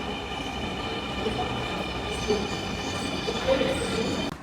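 A metro rail train runs at Uttara Center station in Dhaka, a steady rumbling roar with faint squeals and clatter that grows slightly louder toward the end.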